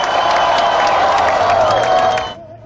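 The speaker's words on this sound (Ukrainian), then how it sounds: "Ваші оплески!" A crowd at a ceremony welcoming Ukraine's national football team applauds and cheers, a loud, dense burst of clapping with a sustained ringing tone that cuts off sharply near the end.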